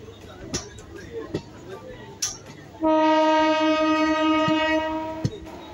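A train pulling into a station sounds a long, loud, steady horn blast that starts suddenly and holds for several seconds over platform noise, after a stretch of crowd murmur and voices.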